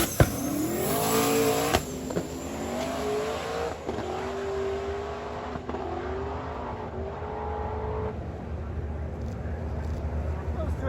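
A stick-shift Mustang makes a drag racing pass: the engine revs rise in stages with a drop at each gear change, loud at first and gradually receding, with a voice talking over it.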